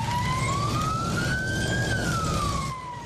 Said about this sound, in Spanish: La sirena marcó el inicio de la restricción